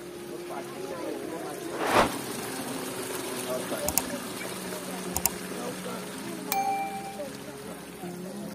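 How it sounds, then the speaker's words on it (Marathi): Water flows gently at the source of a spring beside the Lakshmi Keshav temple in Kolisare, Ratnagiri, a soft continuous trickle with a faint hum and a few brief knocks and clicks. "इथे या झऱ्याचे उगमस्थान आहे"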